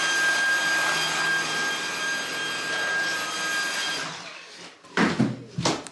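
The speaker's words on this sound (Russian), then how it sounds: "Пылесосит." A household vacuum cleaner whines steadily indoors for about four seconds, then stops, followed by a few knocks and handling noises.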